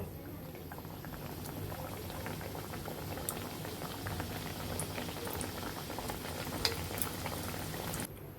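Nimki pastries deep-frying in a pan of oil, a steady bubbling, boiling hiss with small pops, moderately quiet and close, continuous until it cuts off near the end, no voices.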